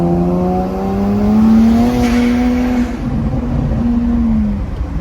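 A car engine drones loudly with a rising, revving pitch that climbs, levels and falls off, with steady road rumble underneath.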